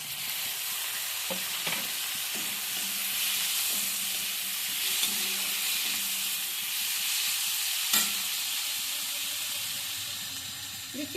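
Chopped tomato fries in oil with hot chili powder for a raw banana peel kofta dish, giving a steady close hiss with a few soft stirring knocks.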